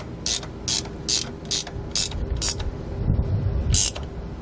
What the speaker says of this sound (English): we're then ready to just tighten these down and torque them to the specifications found in our instructions. We're going to do this with a 3/4 inch socket.